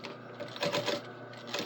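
A sewing machine makes two or three stitches to reach a corner on back pocket work, giving a short, close mechanical whir that swells briefly in the middle before settling, heard alone.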